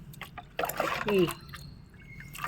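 Rice-washing water, mixed with other water for a homemade organic liquid plant fertilizer, is poured into a container in short splashy bursts while a person talks over it.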